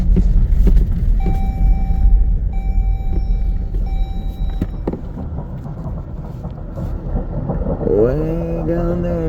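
A freight train crosses the railroad diamond at Fremont, Nebraska, heard as a distant, rolling rumble with repeated drawn-out horn tones, and someone speaks near the end.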